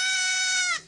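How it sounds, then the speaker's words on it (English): A goat lets out a single drawn-out, nasal bleat, close and fairly loud, that fades out abruptly at the end, with no speech over it. "It's a goat that tries to what is that like neigh or Bleat."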